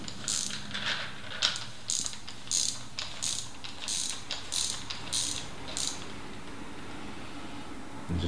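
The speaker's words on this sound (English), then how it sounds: "And just wind the cluster off" A removal tool winds a threaded bicycle freewheel cluster off the hub, giving a steady run of rapid ratcheting pawl clicks in repeated bursts, close and clear with no talk.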